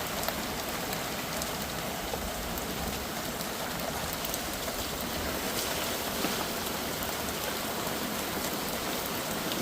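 Heavy monsoon rain pours down onto puddles in a steady, dense hiss that stays loud and unbroken throughout, with no voices.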